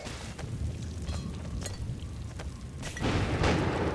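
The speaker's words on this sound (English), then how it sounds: "If so, point that cannon at the gate." Deep booming cannon blasts at a gate in Vermintide 2 rumble over continuous low noise, with a heavier burst near the end.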